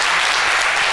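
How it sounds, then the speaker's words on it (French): Studio audience applause on a midday television show, a steady, dense wash of clapping that fills the whole moment without a break. "Applaudissements encore une fois pour cette championne"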